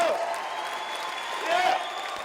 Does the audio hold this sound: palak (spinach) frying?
no